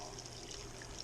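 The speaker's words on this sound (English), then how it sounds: "we'll just pour this back in fairly slowly" Wort from a homebrew beer mash is poured slowly back over the grain bed onto a spoon during vorlauf, making a steady, soft trickling stream that is faint and continuous throughout.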